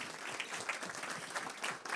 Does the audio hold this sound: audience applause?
yes